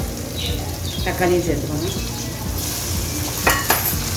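Mutton chukka being stirred with added tomatoes in a pan, a continuous sizzle with scraping and a few sharp clinks of a spoon against metal near the end, with a voice talking over it.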